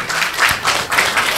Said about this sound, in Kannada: ಬರ್ಲಿ ಒಂದು ಜೋರಾದ ಚಪ್ಪಾಳೆ.